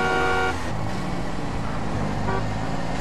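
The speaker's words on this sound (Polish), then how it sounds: "zaczyna na niego trąbić" A car horn blares in GTA San Andreas for about half a second, then a second shorter honk sounds over the continuous hum of a driving game car engine.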